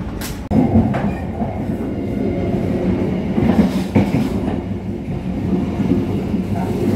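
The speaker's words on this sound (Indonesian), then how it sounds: "kereta api Argo Cirebon melintas langsung di stasiun Cirebon Perujakan" Argo Cheribon passenger train running straight through Cirebon Prujakan station in Indonesia without stopping, a loud close rumble with steady clattering wheels and a sharp jolt near the start, carrying on throughout.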